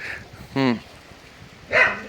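Village dogs play outdoors, letting out two short, sharp barks spaced about a second apart, close and loud against a faint hiss of background noise.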